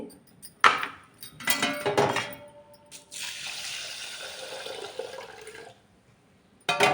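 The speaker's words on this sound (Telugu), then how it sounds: "ఇప్పుడు ఈ రైస్ని ఒక అరగంట నానబెట్టుకుందాం వాటర్లో వేసి" A quarter kilo of rice poured into water to soak, with a few splashes and clatters, then a steady rush of water for a couple of seconds, close by and without talk.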